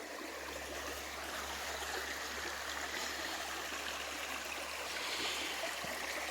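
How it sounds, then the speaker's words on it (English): Broadband rushing and trickling of a stream flowing steadily nearby during a nature walk, continuous and even with no voices over it. "The running water."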